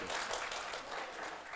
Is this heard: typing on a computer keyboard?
no